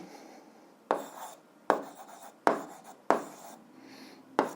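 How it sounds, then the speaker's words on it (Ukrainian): A pen scratches across paper while equations are written out in an 8th-grade algebra lesson: five crisp, evenly spaced strokes, each starting with a sharp tap and trailing into a short scrape, close and clear with no talk. "Записуємо отже."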